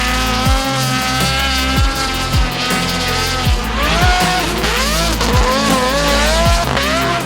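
A race car powered by two Toyota JZ six-cylinder engines joined together with two superchargers screams loudly and close, with repeated sharp revs and gear changes, rising and falling engine howl and tire squeal.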